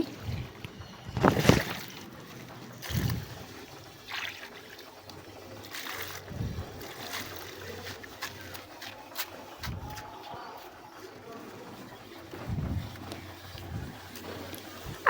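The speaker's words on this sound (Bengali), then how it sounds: "এই গাছগুলোতে জল দিচ্ছি" Watering pomegranate, aloe vera, chilli, aubergine, tulsi and lemon plants on a rooftop, with intermittent splashing and trickling water bursts, irregular and fairly close, between quieter stretches.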